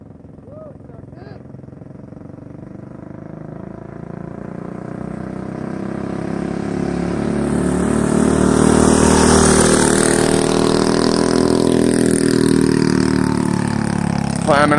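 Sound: bike with Predator 212 stage 3 engine riding

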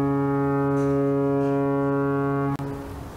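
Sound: foghorn blowing

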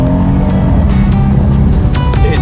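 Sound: car exhaust rumble

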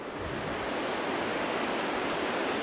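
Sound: Alaknanda river flowing

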